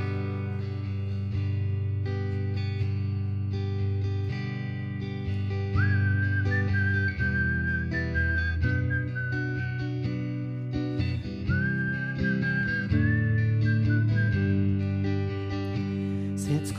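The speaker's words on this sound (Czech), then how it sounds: "Je zvláštní tím, že já v ní hvízdám." A singer whistles a clear, sustained melody over a full band performing a carol on stage at a music festival, the whistled line rising above steady instrumental backing in two long phrases.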